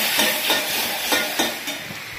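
Tomato goes into hot oil already spiced with chilli and turmeric, giving a steady sizzling hiss with a few soft stirring scrapes, close and moderately loud, with no voices.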